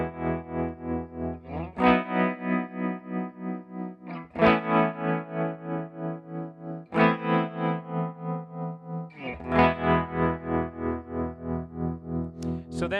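A saved preset on a Chase Bliss Audio Warped Vinyl guitar pedal colors repeated sustained guitar chords with warbling, chorus-like modulation and grit. Each chord rings out for a couple of seconds before the next is struck, loud and up close.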